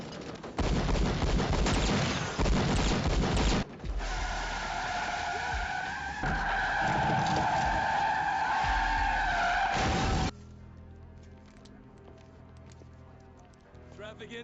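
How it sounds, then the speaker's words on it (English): Movie car chase on a bridge with a tire blowing out and the car skidding, a loud burst of crashing noise followed by a long, sustained tire squeal, close and dense, with a muffled voice underneath. "But then, tire blows."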